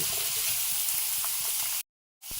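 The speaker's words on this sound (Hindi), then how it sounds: "ये प्याज जो है हमें स्लो स्लो फ्लेम पे फ्राई करनी डालनी है" Chopped onions fry in a pan over a low flame with a steady broadband sizzle and faint stirring scrapes, close and continuous, then a brief dropout of silence before the sizzle returns.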